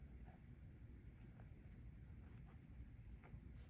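Pen scratching across a paper journal page as words are written by hand, a very faint, soft scribbling with small strokes, quiet and close.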